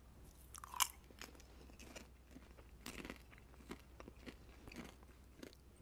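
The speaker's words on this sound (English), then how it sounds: "Really tasty, really crunchy popcorn." Close, quiet crunching bites and chewing of barbecue-flavored popcorn, irregular crisp crackles spread over several seconds with one sharper snap early on, no talking.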